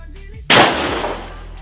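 A single sharp, loud firecracker blast cracks close by and rings out briefly before fading, set off during an amulet-testing event on Holy Monday.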